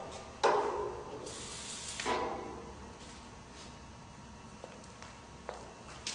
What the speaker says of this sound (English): spray white lithium grease on all the areas where the nylon rub blocks would ride up and down inside the column